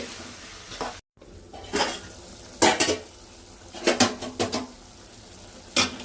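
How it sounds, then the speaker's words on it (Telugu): A spoon scrapes and clatters against a pan as coriander and mint are stirred into a curry, sharp bursts of stirring separated by pauses over a faint background hiss. "కొత్తిమీర, పుదీనా వేసి ఒకసారి కలుపుకోవాలి"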